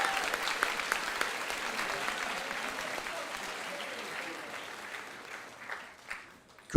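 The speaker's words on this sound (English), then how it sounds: "Clap." A school opening assembly audience claps, a dense burst of many hands that is loud at first, then thins and fades before a final sharp hit.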